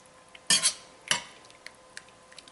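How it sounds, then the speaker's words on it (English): A spoon stirs low carb chicken stew in a pot, two sharp metallic scrapes and clinks against the pot followed by a few faint taps, close and otherwise quiet. "And stir it around here."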